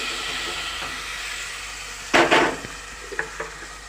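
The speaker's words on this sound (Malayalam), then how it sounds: "എന്നിട്ട് നമ്മളിതിങ്ങനെ ഇളക്കി കൊടുക്കുകയാണ്" Food sizzles steadily in a pan after mustard seeds are spluttered, then a spatula scrapes and stirs in a few quick bursts, followed by lighter scrapes.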